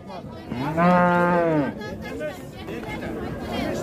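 A bull lets out one long, loud moo, with the murmur of a crowd and people chattering around it at the busy Jalal-Abad livestock market.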